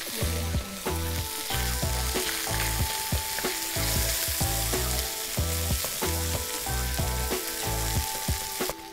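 Chorizo sizzling in a paella pan for chicken paella, a loud, continuous close frying hiss with crackles and occasional stirring scrapes and clanks throughout.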